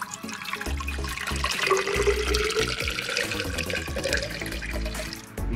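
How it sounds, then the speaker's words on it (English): Water pours into a container, a continuous gushing splash whose pitch shifts as it fills, fairly close and loud. "I'm going to fill this part about halfway with water"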